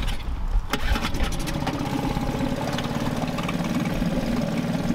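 A new boat's outboard engine cranks over, catches and settles into a steady, loud idle that runs continuously close by.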